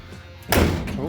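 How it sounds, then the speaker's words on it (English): Front passenger door of a classic car swung shut, one solid close thud followed by a short rattle, near and loud, with some voice in the background. "the door actually closes as good as it's going at the moment"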